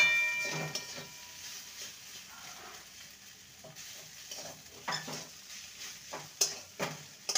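Spiced potato with sugar stirred in a pan, soft intermittent scraping and light sizzle at moderate distance, fairly quiet with no talk.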